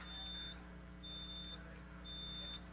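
Smoke alarm with dead batteries giving three loud, evenly spaced electronic beeps about a second apart over a steady background hum.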